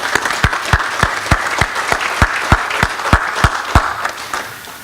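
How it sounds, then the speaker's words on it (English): Audience applause at a community organization gathering, a steady wash of many hands clapping with a few sharp individual claps standing out, filling the room at close range and tapering slightly toward the end. "So please give yourselves a round of applause."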